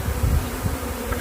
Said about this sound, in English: Enough bees there to kill about 100 horses.